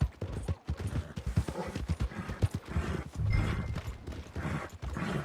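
Horse hooves clip-clop at a steady, rhythmic walking pace in the Red Dead Redemption 2 video game, close and fairly loud, with faint ambient game sound beneath.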